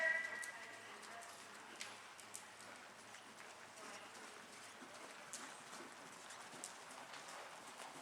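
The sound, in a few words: horse hooves cantering during riding lesson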